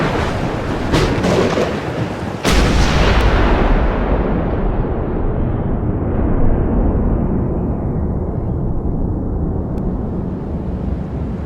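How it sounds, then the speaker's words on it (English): Gunfire erupts in the video game Max Payne 2 as a few sharp cracks that lead into a heavy, roaring blast, whose rumble slowly fades over several seconds. "Gunfire!"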